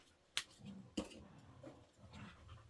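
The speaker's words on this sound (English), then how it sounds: "my dogs are making so much noise." Dogs make noise in a room where an embroidery machine works, with two sharp bark-like yelps followed by softer whines and shuffling, fairly quiet and slightly distant.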